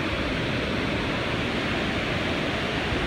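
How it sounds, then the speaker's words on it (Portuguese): The Mitsu waterfall in Gero, Gifu, Japan, falling over volcanic rock, gives a steady, dense roar of rushing water that holds unbroken throughout. "aqui é o nome dessa cachoeira, Mitsu."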